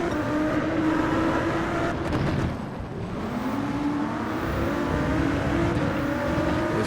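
Race car engine in Gran Turismo 7 held on steady power, a continuous droning rev with a brief dip near the middle before climbing again, loud and close with no talk.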